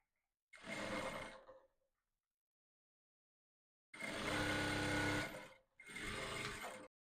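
A sewing machine stitches a seam allowance for a corset boning channel in three close bursts: a run of about a second, a pause, then a longer run and a short final burst.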